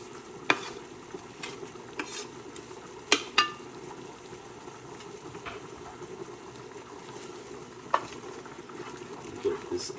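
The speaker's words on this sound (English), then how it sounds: "Get this onion nice and sweated out." Onion sweating in a pan with browning ground beef for homemade lasagna: a low, steady sizzle with a few sharp spoon clinks and scrapes as the meat is broken up, close by and moderately quiet.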